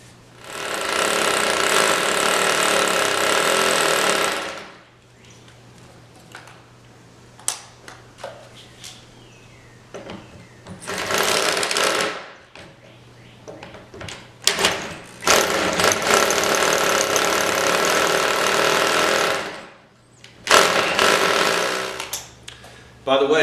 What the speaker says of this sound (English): I'm going to go to a smaller drill bit so I can start the hole,